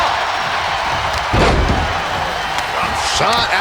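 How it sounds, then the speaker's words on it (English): A body slam impact in the WWE 2K23 wrestling video game, a single loud heavy thud partway through over steady crowd noise and commentary. "then slamming their face down"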